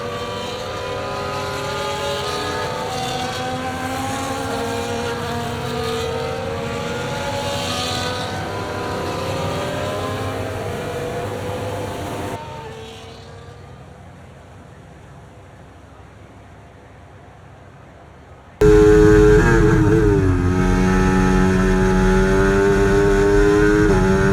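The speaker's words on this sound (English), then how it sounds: "As the cars come back towards the grid to line up for the start of the race" F1 race cars in the F1 24 video game sit on the grid, their engines droning and whining at shifting pitches, fading to a quieter hum for a few seconds before a loud, steady engine note returns close up.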